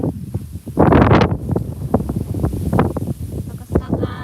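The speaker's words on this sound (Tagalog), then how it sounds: "Lakas ng hangin." Strong wind gusts buffet a phone microphone outdoors on a farm field in Occidental Mindoro, Philippines, with a loud roaring burst near the start and steady rumbling buffeting throughout.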